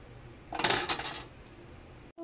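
Old wild garlic being tipped into a metal cooking pot while making homemade insect spray gives a brief burst of clattering and rustling near the mic, then fades to quiet room tone.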